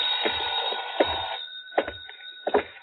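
An old-fashioned telephone bell rings in a 1959 radio drama episode of Yours Truly, Johnny Dollar, loud and near in repeated bursts over a steady hum, with no voices.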